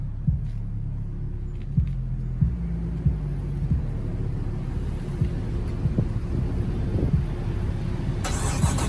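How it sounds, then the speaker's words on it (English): A 2016 Dodge Charger R/T with a newly replaced starter idles with a steady low engine rumble and light mechanical ticks, the idle rising toward the end. "Start her up."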